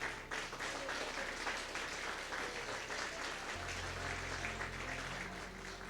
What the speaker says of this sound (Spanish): Denle un fuerte aplauso al Cordero de Dios.